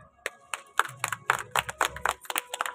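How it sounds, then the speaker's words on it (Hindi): An audience claps at a public meeting on a government pension and labour card scheme, a loose scattered round of handclaps, close and moderately loud, lasting a few seconds. "सरकार के इन प्रयासों के लिए क्या हम ताली बजा सकते हैं?"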